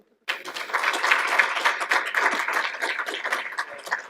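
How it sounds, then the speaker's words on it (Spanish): After a brief silence, an audience bursts into applause to welcome a speaker to the stage. Dense clapping rises quickly and carries on steadily, easing slightly toward the end. "recibámoslo con un fuerte aplauso"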